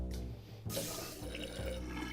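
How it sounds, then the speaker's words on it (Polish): Water gushes and swirls as a toilet flushes in the World of Goo video game, a loud running rush that starts strongly, thins and then surges again, heard alone with no talk. "Spuszczamy wodę w kiblu"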